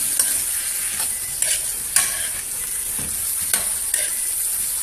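Carrots sautéing in a frying pan for mixed vegetables in oyster sauce: a steady close sizzle with a few sharp stirring scrapes and clicks throughout.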